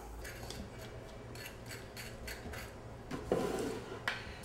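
Metal spoon scraping seeds from a halved butternut squash, a series of soft rhythmic scrapes and taps close up, with a louder clatter toward the end.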